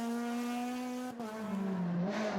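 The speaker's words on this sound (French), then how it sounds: "Julian Falcon aussi avec une Honda Civic. Des tractions qui donnent l'exemple et un peu de spectacle" A front-wheel-drive Honda Civic rally car blasts along a special stage at the Rally Islas Canarias, engine howling loud and close with a sharp gearshift break midway, then revving back up with a brief tire squeal, no voices.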